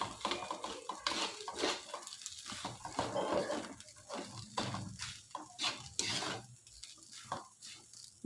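Capsicum fried rice being stirred and fried in a pan, giving a steady run of scraping, clinking spatula strokes and soft sizzle over about eight seconds, with no voice.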